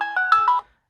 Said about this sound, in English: So I can change to different ringtone